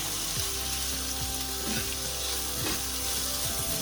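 Chilies and masala roasting in a pan for daal, a steady close sizzle with faint clinks and scrapes of stirring, no talk.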